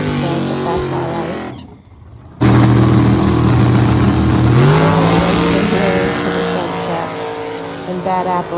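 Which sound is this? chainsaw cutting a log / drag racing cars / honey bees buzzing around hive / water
drag racing cars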